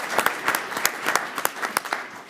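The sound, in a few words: audience applause at school board meeting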